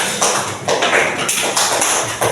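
Classmates clap for the first group after its presentation in a classroom, producing bright bursts of hand claps that swell and ease in several quick waves, fairly loud and close.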